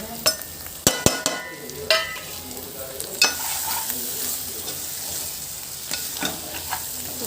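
Drumstick pieces for a tomato curry fry in a pan with salt, chili powder and turmeric, giving a steady bright sizzle broken by sharp spatula clicks and scrapes as they are stirred.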